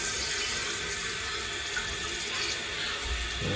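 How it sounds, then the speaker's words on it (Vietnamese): Water rushing steadily into a toilet cistern as it refills after a flush, a loud, continuous close hiss and gurgle with no pauses and no talking. "Đó, xả rồi nha. Nước nó sẽ dâng lên."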